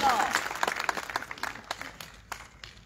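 An audience at a political speaking event in Talagang, Pakistan, bursts into loud applause that starts dense and full, then thins out into scattered individual claps.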